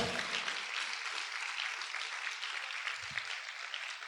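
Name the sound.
congregation applauding loudly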